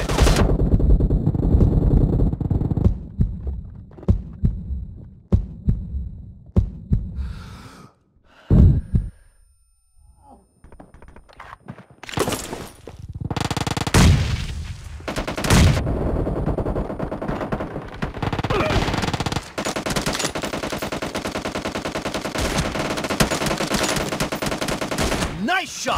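Gunfire in the battle royale shooter PUBG: dense bursts of rapid automatic fire and single loud shots, with a short quiet gap partway through before heavy firing resumes, loud and close over game sound effects.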